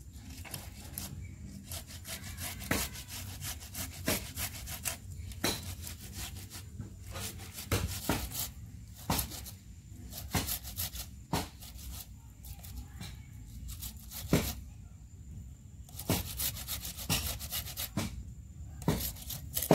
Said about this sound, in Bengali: টমেটোগুলো ঘষে নিচ্ছি।